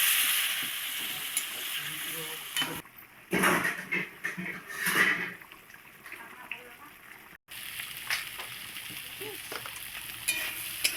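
Pointed gourd fries in a mustard spice paste in a pan, giving a steady hiss and crackle. A loud burst of sizzling comes partway through as a little water is added, and it then settles back into a softer fry, with a voice talking over parts of it.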